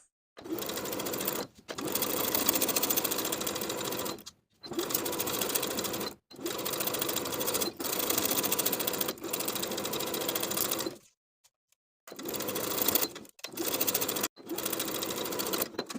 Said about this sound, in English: Sew all the way around the top edge, securing the binding to the bodice with a 3/8 inch seam allowance.